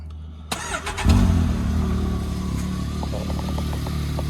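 A 2023 Can-Am X3 RS side-by-side on its stock exhaust cranks and fires up with a sharp start, briefly revs, then settles into a steady, fairly quiet idle rumble nearby.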